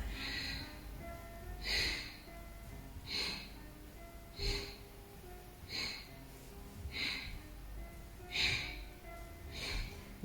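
Breathing in and out during an aerial yoga exercise on a chair, a slow series of about nine soft, airy breaths spaced roughly a second or so apart, close and quiet.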